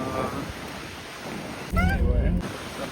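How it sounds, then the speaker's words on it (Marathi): Waves wash steadily onto the sea shore at Mumbai, heard as a constant wash with wind buffeting the microphone and a louder burst of mixed sound near the end. "आता आम्ही बघा समुद्र काठी आलेलो आहोत"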